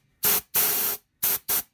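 Short bursts of air hiss from a compressor's pressure release valve being pulled by hand: four sharp, close, loud blasts, two longer then two brief, with silence between.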